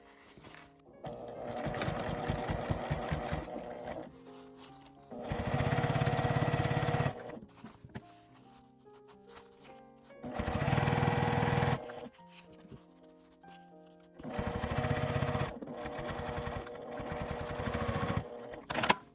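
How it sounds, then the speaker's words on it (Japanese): A sewing machine topstitches along a fabric edge on a zippered pouch in four steady runs, with brief quiet pauses between them, close and clear. "端を揃えて引くようにして表から端ミシンをかけます。"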